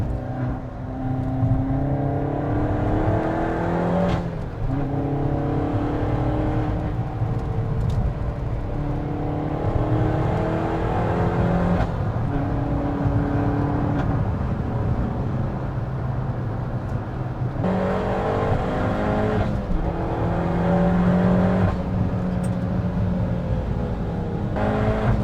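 Steady, loud engine drone from a Peugeot 308 GTi lapping Castle Combe race track on cold tyres, with rising and falling pitch through gear changes and no talking.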